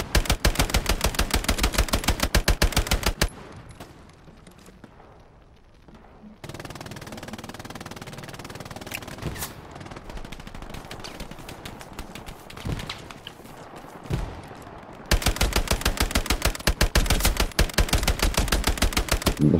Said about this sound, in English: This gun is actually fucking super fun to use, man.